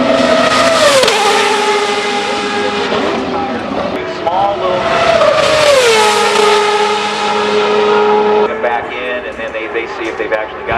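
An IndyCar race car circulates the track at Portland International Raceway, its engine note loud and sustained with pitch rising and falling through gear changes and passes, under steady commentary.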